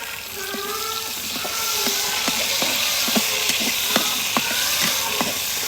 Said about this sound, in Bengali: পেঁয়াজের মধ্যে হচ্ছে আলুটা ভেজে নিব।